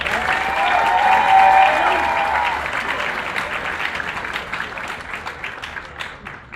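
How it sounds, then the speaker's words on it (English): Wedding reception guests give a round of applause as a speaker is welcomed up for toasts, clapping swelling loud and full early, then thinning into scattered claps with a brief tone near the start. "Big round of applause, please."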